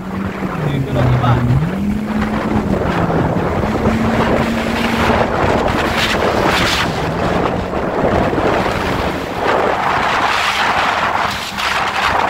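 A Yamaha FZS 1800 SHO jet ski with a freeflow muffler drones through a sea trial, its engine pitch rising and dipping as the throttle changes, close and steady under strong wind buffeting, with a person talking over it.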